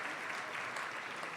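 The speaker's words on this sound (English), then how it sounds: "Applause." Guests at an annual dinner applaud in a brief, steady, fairly faint wash of clapping from a room full of people.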